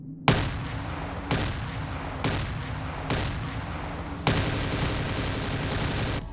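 Dirt 935 automatic shotgun in a Call of Duty zombies map fires five loud, booming blasts at roughly one-second intervals, each with a sharp attack and a sustained rumbling tail, the last one ringing on longest.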